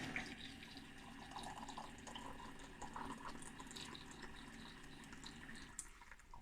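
Hot water runs from a tap into a saucepan, a faint, continuous filling and splashing stream heard close and alone for several seconds.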